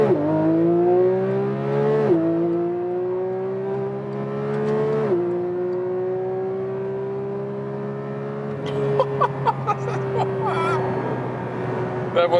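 A Porsche 911 GT3 Touring 992 accelerates hard in track mode from low speed, its engine howling upward through the revs in long rising pulls with crisp upshifts between, loud and close from inside the cabin.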